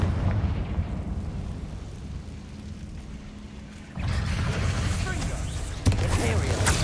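Confringo fire spell from Hogwarts Legacy going off in a dungeon fight with spiders, a loud rumbling blast with a rough low roar that swells partway through and a second sharp burst near the end, under continuous game ambience.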